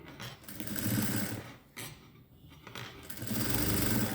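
A sewing machine stitches blouse fabric in close, loud whirring runs broken by brief pauses, with no talking.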